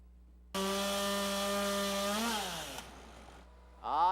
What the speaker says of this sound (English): Sounds of chainsaws filled the air in downtown Traverse City.